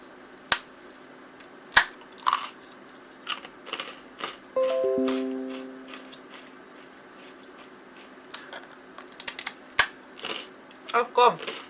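A thick soy sauce senbei rice cracker is bitten and chewed up close, giving sharp, separate crunches spread across the clip with quieter gaps between them, plus a brief tonal sound in the middle.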